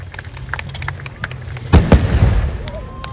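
Simulated gunfire at a 2023 Indian Navy Day demonstration in Malvan, Sindhudurg, heard as a cluster of loud, sharp blasts and bangs at mid-clip, rising over a steady outdoor murmur and fading into a rumbling tail.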